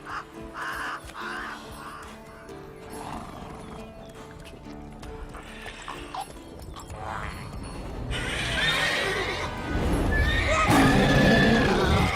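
Roach, the horse in the video game The Witcher 3, neighs and whinnies amid hoof clip-clops, with crows cawing and game music around it, growing louder toward the end.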